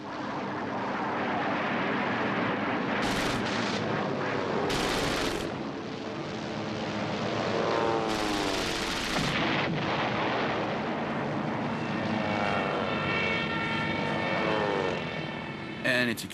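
Propeller-driven B-17 bombers drone steadily under attack from enemy fighter planes, with sharp bursts of gunfire breaking through the constant engine roar.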